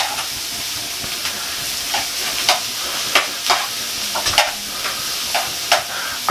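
Tomatoes frying in a pan give a steady sizzle with crackling pops and repeated stirring scrapes, recorded close with no talk.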